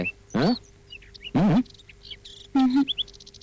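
Caged birds call in three loud, ringing bursts spaced about a second apart, with softer chirps and twitters scattered in between, heard close up in a quiet room.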